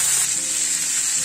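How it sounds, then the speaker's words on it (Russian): Loud, steady sizzling and spitting of chicken frying in a hot pan, continuous and close. "Пока курица обжаривается с двух сторон до полуготовности"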